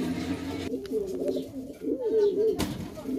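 Fancy pigeons, King Black and King White breeds, coo in low, rolling bursts close by, with a faint rustle and a sharp knock near the end.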